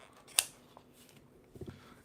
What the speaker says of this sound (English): Let me just cut this part off here now.